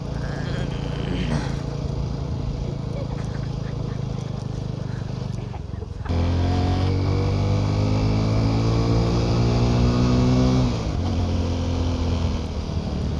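A TVS Apache RTR 200 4V motorcycle being ridden, a steady engine drone that rises in pitch as it accelerates through the gears, close and loud, with wind noise throughout.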